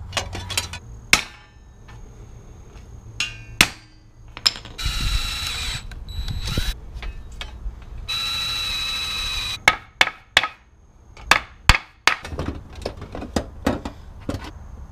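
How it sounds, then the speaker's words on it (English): A wrench or ratchet works the bolts of a short throw shifter on a Nissan S13, giving repeated sharp metallic clicks and knocks with two longer buzzing runs between them, close up and with no voices. "Now all I have to do is kind of unbolt it, bolt this down"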